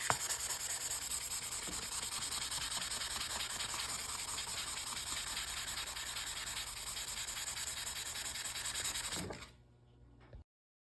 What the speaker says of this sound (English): After the knife has been thoroughly sanded, the steel on both sides, we can proceed to go through the rest of the grits and polish up the face.